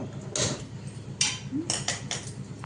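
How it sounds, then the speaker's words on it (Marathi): A gas stove in a home kitchen being switched on: a handful of sharp, faint clicks spaced irregularly over low background hiss, with no talking. "पहिलं गॅस चालू करू"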